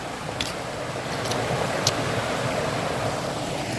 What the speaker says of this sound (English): Very nice indeed, a little waterfall section there.